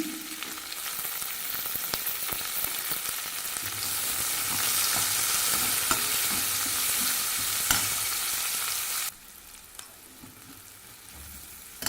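Finely chopped onion fries in oil with curry leaves for a raw banana curry, giving a steady close sizzle with occasional stirring scrapes, the hiss dropping noticeably near the end.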